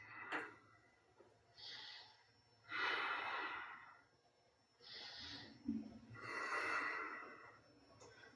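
Slow, deep breaths during an Ashtanga yoga pose, several long audible inhales and exhales spaced a few seconds apart, close and soft, with a faint thump early on.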